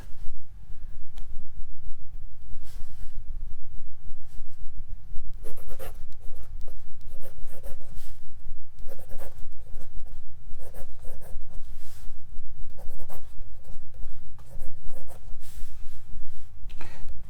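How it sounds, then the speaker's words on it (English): A cheap fine-nib technical pen (fine liner) writing on paper, close-up scratchy strokes in short bursts with small pauses, steady room hiss underneath. "So this is a very cheap technical pen, very fine nib."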